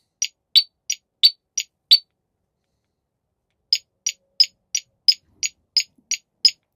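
A vehicle turn signal beeps: short high electronic beeps tick in an even rhythm, six in a row, then a pause, then about nine more at the same steady pace.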